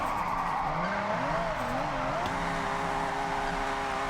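A car drifting in Forza Horizon 6 produces an engine note that rises and falls with the throttle, under continuous tire squeal and skidding, sustained and close without pause.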